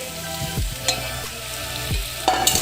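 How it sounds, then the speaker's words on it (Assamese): Boiled potatoes go into jackfruit curry frying in a pan, with a steady sizzle, a few knocks of a spoon and a louder burst of frying near the end. "যিখিনি আপোনাৰ আলু বইল কৰা হৈছিলে এতিয়া আমি আলুখিনি দি দিম।"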